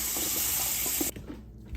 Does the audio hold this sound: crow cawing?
no